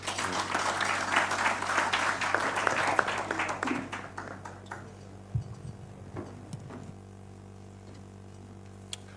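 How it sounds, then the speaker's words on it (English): A crowd applauds at a Kenyan political gathering, a burst of clapping that fades out after a few seconds into a quiet room hum with scattered small knocks. "Another round of applause for the Honorable Paoli Omondi."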